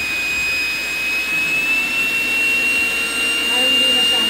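A vacuum cleaner runs continuously with a loud, steady high-pitched whine and airy roar while sucking the air out of packed luggage to compact it, with faint voices under the noise.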